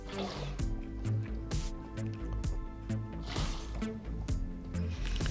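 Water flowing from an infinite water source in Minecraft, a steady stream of dripping, trickling liquid sounds mixed with background game music, at moderate level throughout.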